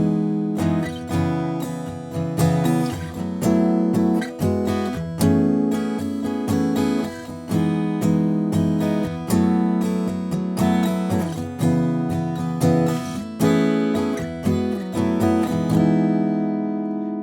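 Guitar playing jazz chord voicings in E with open droning strings, a steady strummed and plucked sequence of rich sustained chords, close and clear with no talking, ringing out at the end.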